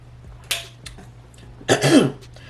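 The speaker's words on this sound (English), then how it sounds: "This cough is back, y'all" A person gives a couple of close, harsh coughs: a short first bark, a small catch, then a longer, throaty cough that trails off.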